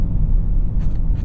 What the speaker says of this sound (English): They're loose stones that have been sort of glossed over with this disgusting black goop. But anyways, they make the road really loud